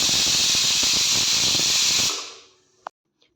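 Loud steady hiss of tea boiling in a pot on a home kitchen stove, bubbling and steaming for about two seconds before fading out, followed by a brief faint click.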